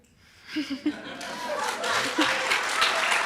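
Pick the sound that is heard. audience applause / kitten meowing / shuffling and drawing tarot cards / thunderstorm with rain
audience applause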